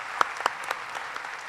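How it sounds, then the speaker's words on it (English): An audience at a conference session gives a round of applause for the panelists, brisk claps ringing out with a few sharper hits, moderately close and alone, with no voices on top. "give them a great round of applause"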